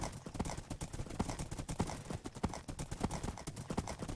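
A horse gallops in the Minecraft video game, with rapid, steady hoof clip-clops loud and up close, continuing without a break.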